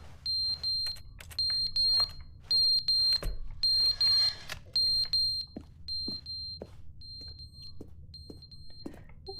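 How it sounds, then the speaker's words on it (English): Repeated electronic alarm beeps in The Stanley Parable video game, a steady run of short, loud, high-pitched tones in regular bursts, heard alone with faint clicks between them. "There's an alarm going off."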